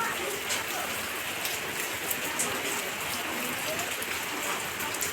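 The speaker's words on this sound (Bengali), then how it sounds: "বৃষ্টি হয়েই যাচ্ছে হয়েই যাচ্ছে থামেনি সারা রাত সারা দিন" Steady heavy village rain pours down in a dense, unbroken hiss, with scattered drops spattering on nearby surfaces.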